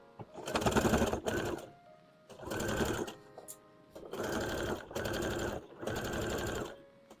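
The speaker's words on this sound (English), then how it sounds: "we'll go ahead and sew this one all the way up" A sewing machine stitches up a fabric hat in five quick bursts of close, rapid mechanical chatter, separated by short pauses.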